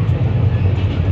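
Konkan Railway express train, a Rajdhani in 3AC, rolling through monsoon-season tunnels, heard from inside the coach as a steady, loud low rumble with continuous roar and no distinct pauses.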